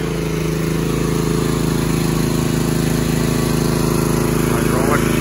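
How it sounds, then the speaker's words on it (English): Hydraulic power pack engine on a Mighty Mite circular sawmill running at a steady, loud, droning idle throughout, close by, with a voice talking over it. "Hydraulic power pack."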